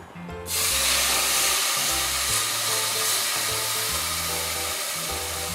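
Boiled milk poured into roasted semolina in a pan for rava kheer gives a loud, continuous steamy hiss and sizzle, close by, with a faint melodic music bed underneath.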